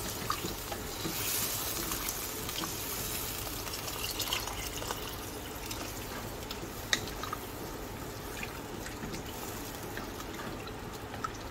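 Warm water pours steadily into a cooking pot while a green broad bean stew is being made, a continuous splashing, trickling stream that stays fairly quiet and close, with no talking over it.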